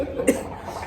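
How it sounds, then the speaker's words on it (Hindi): A single short cough in a casual daily vlog, brief and fairly close, against a low background hum. "खांसी हो रही है"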